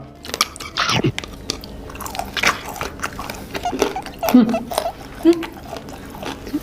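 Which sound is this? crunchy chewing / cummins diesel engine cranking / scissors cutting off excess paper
crunchy chewing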